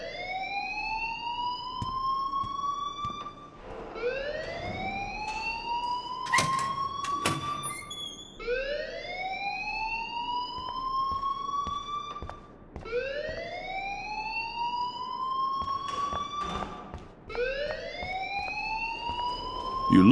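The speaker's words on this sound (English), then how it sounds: "please turn off that alarm since that's your job" A repeating electronic alarm sounds in Life is Strange: rising whooping sweeps, about five cycles each lasting around four seconds, loud and continuous, with brief clicks and bangs between some cycles and no talk.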